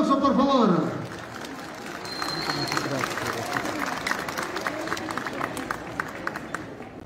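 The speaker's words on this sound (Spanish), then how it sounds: "los vamos a recibir con fuertes aplausos, por favor." A crowd at a school inauguration in the Santiago district applauds to welcome a Carnaval Cusqueño dance. A voice talks briefly at the start, then steady clapping from many hands builds and continues at moderate loudness.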